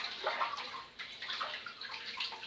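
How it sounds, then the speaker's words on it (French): Water being poured and emptied out of an aquarium during cleaning, a continuous splashing, gurgling flow close by with small surges, no talking. "Comme ça et après vous videz l'eau."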